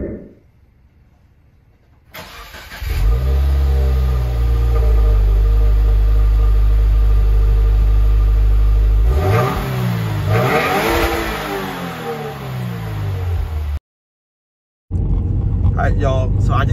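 A car on a new set of tires drives away with a strong, steady engine drone close by; the revs swell and dip, briefly rise again, and the engine drops out for a moment near the end.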